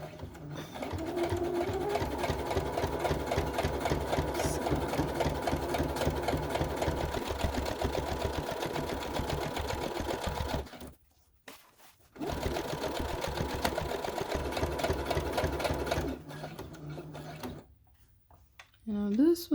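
A home sewing machine stitches fabric for a Simplicity 1559 outfit, running in long steady whirring bursts with a brief stop midway and a trailing pause near the end, close and fairly loud.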